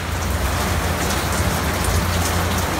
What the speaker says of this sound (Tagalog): Malakas pa rin ang ulan.